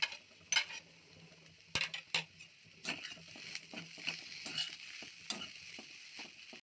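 A spoon stirs peas and vegetables in a pan, producing a series of quiet scraping clicks and soft sizzling patter at an irregular rhythm, close and faint, with no talking.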